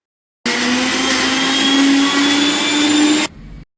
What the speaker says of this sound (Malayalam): ഇനി നമുക്കൊരു മിക്സിയുടെ ജാറിലേക്ക് മാറ്റി വെള്ളം ഒട്ടും ചേർക്കാതെ നന്നായിട്ടൊന്ന് അരച്ചിട്ടെടുക്കാം